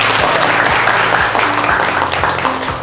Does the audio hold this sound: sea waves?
no